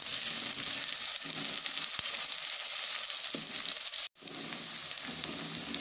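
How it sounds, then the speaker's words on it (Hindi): Steady, dense sizzling of onions and whole garam masala spices frying in hot oil for chickpea curry, with occasional stirring scrapes and a brief dropout near the end. "प्याज को हम हल्का सा सुनहरा कर लेंगे।"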